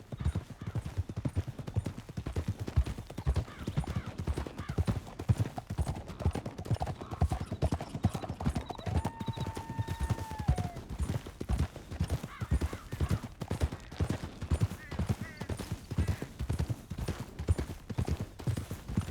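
Rapid, steady hoofbeats of galloping horses in Red Dead Redemption 2 pound throughout, loud and close, with a faint whistle-like tone rising briefly midway.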